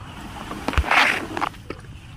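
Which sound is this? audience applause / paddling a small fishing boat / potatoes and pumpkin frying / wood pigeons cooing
paddling a small fishing boat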